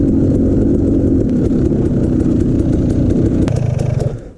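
An off-road motorcycle rides fast along an OHV trail in the Pacific Northwest, its engine roaring loud and close before easing off and fading out at the end.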